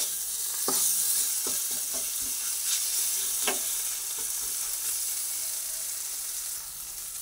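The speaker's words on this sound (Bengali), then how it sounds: "আদাটা এরপর ভেজে নিচ্ছি।" Ginger frying in a little oil with spices in a pan over a lowered gas flame, a soft steady sizzle with scattered stirring scrapes and taps, heard close with no voices.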